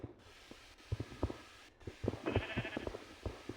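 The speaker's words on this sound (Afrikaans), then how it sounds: "Okay, hier is nog 'n skaap." A sheep bleating in the video game Minecraft, a short wavering bleat in the middle of soft thumps and game noise.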